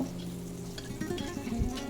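Leftover rice with onion frying in oil for bhat bhaja, a steady close sizzle with scraping and stirring sounds as the rice is pushed to one side of the pan.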